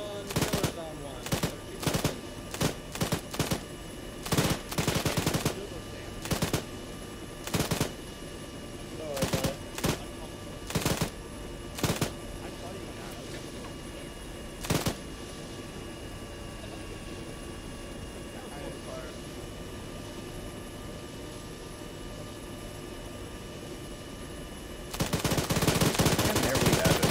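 Bursts of gunfire from the Arma video game, a combat search-and-rescue mission, ring out in repeated sharp volleys over a steady engine drone, likely a helicopter, pausing for long stretches before a dense, continuous burst of firing at the end.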